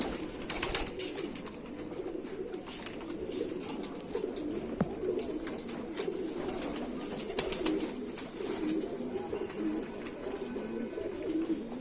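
Indian Rampuri-type pigeons coo continuously in a crowded loft. Their overlapping low, throaty calls are mixed with wing flutters and faint chirps, close and fairly loud throughout.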